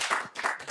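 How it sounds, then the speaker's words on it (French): An audience applauding loudly at an African development talk on education, health and innovation, a dense burst of clapping close up, brief and continuous. "vous avez applaudi fort"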